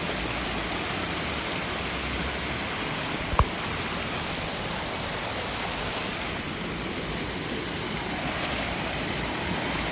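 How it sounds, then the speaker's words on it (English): A waterfall roars as a dense, continuous rush of water, broad and steady for the full length, with one brief click partway through. "there's the waterfall."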